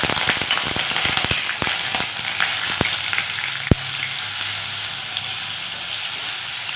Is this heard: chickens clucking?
no